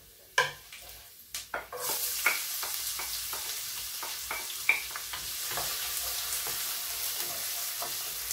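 A few clacks of a pan, then onion hits oil where garlic is already frying and breaks into a loud, steady sizzle, with scraping stir strokes ticking through it; no one talks.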